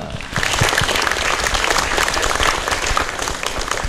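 Loud, dense clapping from an audience at a community empowerment event in Salatiga rises after a brief quiet start and stays steady to the end.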